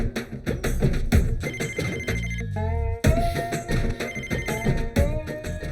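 A landline telephone rings in a Hindi-dubbed film scene, its bell-like tones repeating in a steady pattern over background music.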